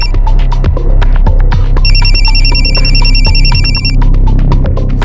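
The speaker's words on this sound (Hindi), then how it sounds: "फोन आ गया तुम्हारा?" A telephone rings loudly and continuously with a steady electronic trill over a droning hum, close and dominant, during an indoor scene in a crime drama episode.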